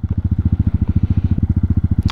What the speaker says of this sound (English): I wish there was a way to make the engine braking a little bit less severe on this bike.